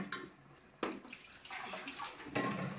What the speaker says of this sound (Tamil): தேவைன்னா கொஞ்சம் தண்ணி ஆட் பண்ணிக்கிறங்க.